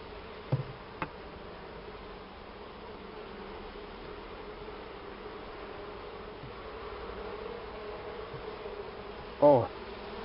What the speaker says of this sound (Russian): Сколько пчел из улья.